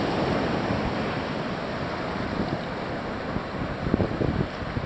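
Ocean surf breaks on a Mexican beach where roosterfish are caught, a steady broad wash of wave noise with wind rumble, fairly loud and continuous, with no talking.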